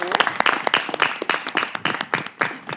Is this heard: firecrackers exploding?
no